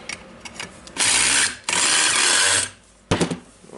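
A Makita GA9050 industrial angle grinder runs after a brush replacement, spinning up loud and close in two sustained bursts of a second or so, then a short final rev, with clicks between.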